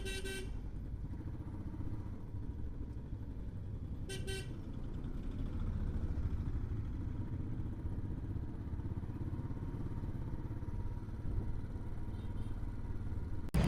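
Steady engine and road rumble from a motorbike ride on the way to drop a child at school, with brief horn toots near the start and around four seconds, continuous and fairly loud throughout.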